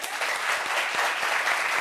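Studio audience at a French-language talk show applauds an arriving guest, a steady wash of many hands clapping for a short burst, moderately loud and even, with no voices standing out.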